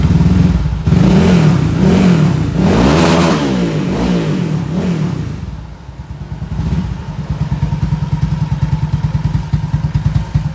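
Scooter engine with a CVT transmission revving hard, rising and falling in loud repeated surges before settling into a steady, close idle-like drone with a rhythmic pulsing.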